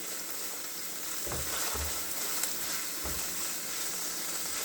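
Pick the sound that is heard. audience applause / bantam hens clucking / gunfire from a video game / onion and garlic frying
onion and garlic frying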